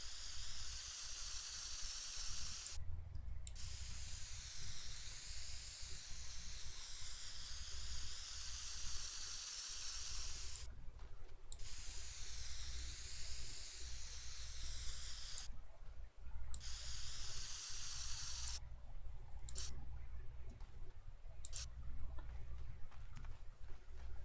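A spray can in the Teardown video game hisses in long, steady bursts of several seconds each, separated by brief pauses, loud and close over a faint low rumble.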